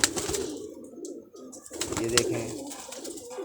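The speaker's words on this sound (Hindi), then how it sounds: "बहुत ही अच्छा कबूतर है ये।" Pigeons kept on a rooftop coo softly in low, rolling calls close by, with someone speaking briefly over them.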